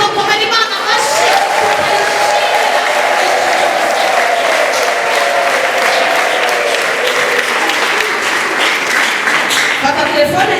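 Church congregation applauding during a service, dense sustained clapping close and loud throughout, with a voice calling out over it and singing tones rising in places.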